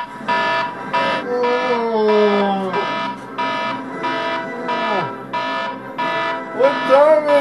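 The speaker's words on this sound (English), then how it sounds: "Hey, wake up! Get that alarm!" A loud electronic alarm buzzes in steady repeated pulses, about two per second, while voices shout over it.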